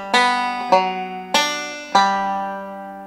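A banjo plays the ending lick of a tune as four bright plucked strikes, each ringing and decaying before the next, close and clear with no voices.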